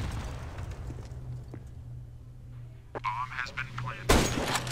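A sharp gunshot in the video game CS:GO bursts out near the end, loud and sudden, after quiet ambience with a few scattered clicks and a brief electronic warble.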